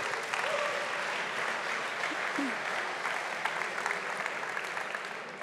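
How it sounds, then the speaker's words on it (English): Moderately quiet crowd applause at an energy pitch competition honoring the jury, steady clapping with a few faint voices mixed in beneath it. "So let's just give them another big round of applause"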